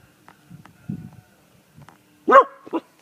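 A dog barks close by, a couple of short yips after some quiet snuffling and faint movement; no talking.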